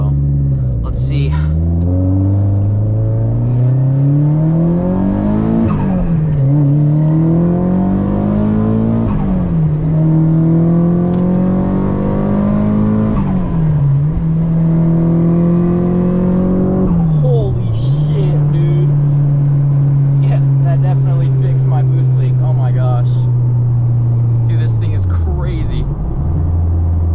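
Nissan S15 with an SR20 turbo engine driving and accelerating through the gears, its engine note rising and dropping repeatedly as it shifts, loud and steady from inside the car with a voice talking briefly over it.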